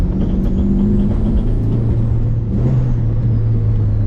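A turbocharged Mitsubishi Evo 5 drives hard on a grip course in a compound, its engine droning loud and steady with a rising whine, the pitch dipping and climbing again as it shifts, close and continuous.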